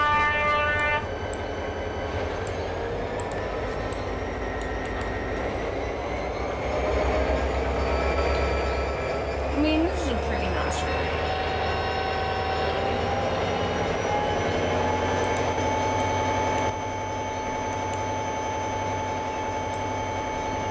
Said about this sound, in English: It's an electric line.